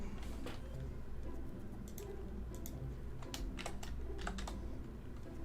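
Typing on a computer keyboard, a fast irregular run of close clicking keystrokes that continues throughout over a low steady background hum.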